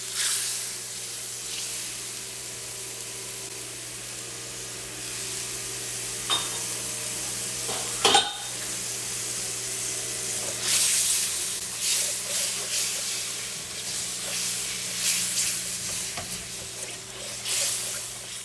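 Vinegar and soy sauce sizzle in a wok with shrimp and mushroom adobo, a steady hissing fry that swells and crackles at moments, with occasional utensil clinks and faint background sounds.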